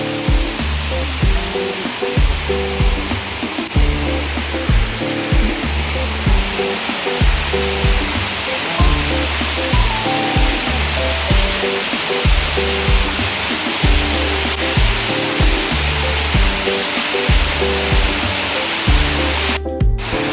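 A double waterfall on Pak Mong mountain stream in Hong Kong pours in a loud, constant roaring rush of water. It sounds close and fills the whole stretch, with no talking.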